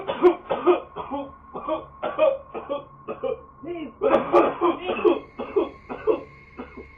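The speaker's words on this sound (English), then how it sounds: "starts coughing uncontrollably like he's choking" A man coughs uncontrollably as if choking, in repeated harsh bursts with short gasping gaps, fairly close and continuous over several seconds.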